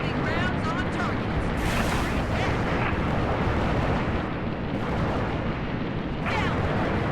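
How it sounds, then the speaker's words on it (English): Gunfire from the Halo Reach video game keeps up in dense, sustained bursts and booms, with game voices mixed into the noisy battle. "Putting rounds on targets."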